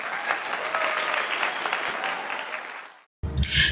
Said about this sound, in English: let us all give them a round of applause